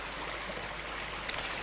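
Small creek water flowing steadily in a New Zealand hill setting, a continuous broadband rush with no talk and one brief brighter splash near the end.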